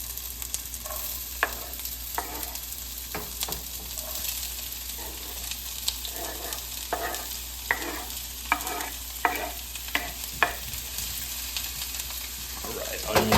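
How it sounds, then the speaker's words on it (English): Onions and fennel seeds sauté in hot oil in a pan for pasta sauce, a steady sizzle under repeated scraping and tapping of a stirring utensil, close and moderately loud. "Now we're gonna add them to this pan and saute them."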